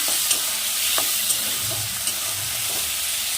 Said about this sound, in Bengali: আলুগুলো তেলের মধ্যে ছেড়ে দেব